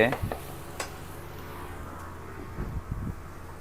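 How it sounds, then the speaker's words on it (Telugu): Fish curry (chapala pulusu) stirred in a pot, a soft scraping and gentle bubbling with a few light clinks of a spoon on metal, close by and fairly quiet, with a voice speaking over it at times. "ఒక 3 మినిట్స్ పాటు ఇలాగా బాగా నీట్గా కలుపుకుంటూ ఉండాలి"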